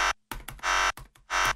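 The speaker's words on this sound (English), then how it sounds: "take the electric razor and take it from something that sounds like this" An electric razor buzzes in short, loud bursts separated by gaps, close to the microphone, with no talking.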